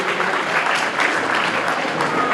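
An audience at a chess tournament event applauds the organisers, a dense, steady burst of many hands clapping that fills the whole stretch at a fairly loud level.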